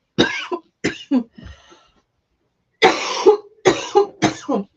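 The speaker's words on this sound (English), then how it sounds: "My apologies for clearing my throat or coughing" Several harsh coughs and throat clearings in two bursts separated by a pause of silence, close to the listener and fairly loud.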